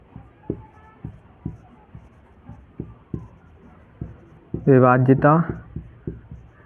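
Chalk or pen writing by hand for a Class 10 maths lesson on divisibility rules, steady tapping strokes in an even rhythm, close and clear, with a brief spoken word partway through.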